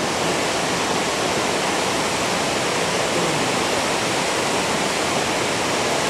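The Todtnau waterfall in southern Germany roars as a constant, loud, broadband rush of falling water, steady and unbroken with no voices over it.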